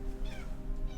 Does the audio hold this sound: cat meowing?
yes